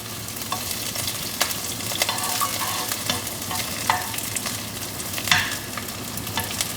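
Ginger and scallion stir-fry over low heat for a braised tofu claypot dish, a steady close sizzle broken by sharp scraping and clicking of a spatula, with no talking.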